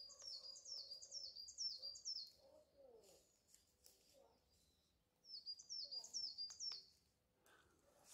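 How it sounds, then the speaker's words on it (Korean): Birds chirp in quick repeated bursts of high notes, two clear song phrases with softer calls between them, faint and airy against a quiet, windy mountain forest background. "새소리 들리십니까?"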